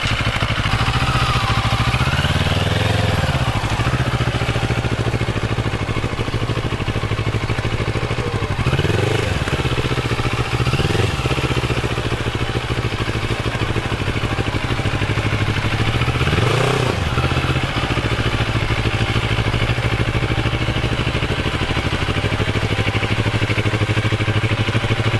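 A brand-new motorcycle engine running steadily during a ride, a continuous mid-pitched drone with a few brief rising revs and some clatter, fairly close, with no talking.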